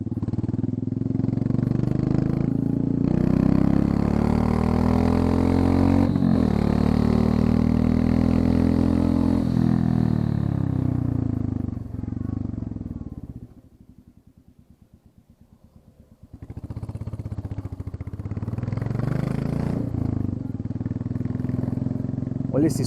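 A Classic 350 motorcycle with its exhaust tip removed revs hard in long, loud rising and falling pulls, drops to a thumping idle for a few seconds, then revs again, recorded close up.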